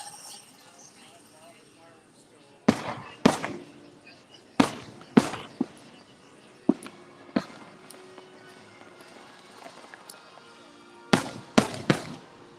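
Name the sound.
fireworks exploding at Disney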